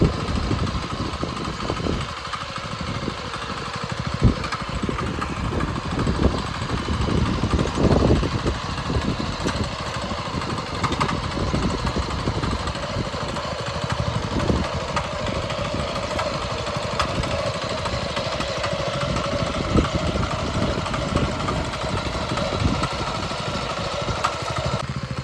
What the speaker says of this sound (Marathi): बैलांचं काम ट्रॅक्टरने सोपं केलं